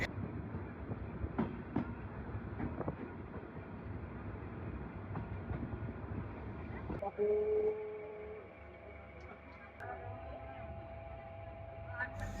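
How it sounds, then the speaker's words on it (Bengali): A passenger express train rumbles and clatters steadily nearby, then a loud tonal horn or whistle sounds as it departs Narail station, Bangladesh, with mechanical clanking continuing. "নড়াইল স্টেশনে ট্রেনটি তার যাত্রা বিরতি শেষ করে ছেড়ে যাচ্ছে তার পরবর্তী গন্তব্য স্টেশনের উদ্দেশ্যে"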